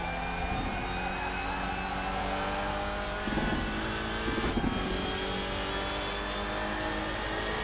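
Audi race car engine in RaceRoom Racing Experience, droning steadily at high revs with layered harmonic whine and brief rev changes, loud and continuous throughout.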